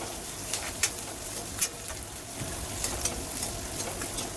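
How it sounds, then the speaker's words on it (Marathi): Sliced onion sautéing in a pan, a steady, soft, close sizzle with occasional faint crackles and stirring clicks, no voices. "एक कांदा घालायचा उभा चिरलेला थोडासा गुलाबी कलर येईपर्यंत परतून घेऊया"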